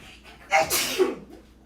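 A single close, sharp sneeze with a quick intake of breath before it, then quiet breathing afterward.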